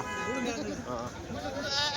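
Goats bleat repeatedly in wavering, nasal cries at a weekly goat market in Kadiri, several animals close by, with a steady crowd of bleats filling the whole stretch.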